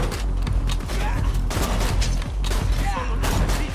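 Rapid gunfire from the shooter video game Borderlands 2, a dense run of loud, close shots and mechanical clatter packed across the whole moment with no pauses.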